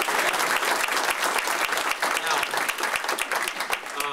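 Applause at a tribute gathering, with a room full of people clapping steadily and loudly as a close, dense patter throughout.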